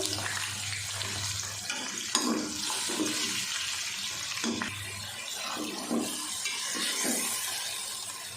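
Chicken frying with golden-browned onions in a pan for Punjabi chicken curry, a steady loud hiss and sizzle with occasional sputters and stirring knocks, close throughout with no talking.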